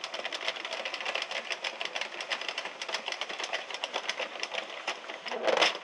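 An Addi or Sentro circular knitting machine clatters under steady cranking, a rapid, even run of plastic clicks close by, ending in a brief rustle.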